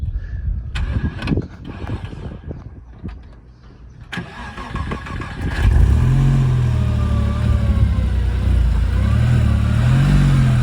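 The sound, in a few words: Porsche 996 engine running and revving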